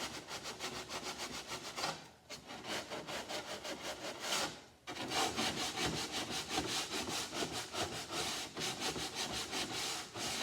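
Long, even scraping and rubbing strokes across planed wooden strips for a Freedom 17 strip-plank canoe, touched up by hand to remove small ridges; close, continuous work with two brief pauses and no voices.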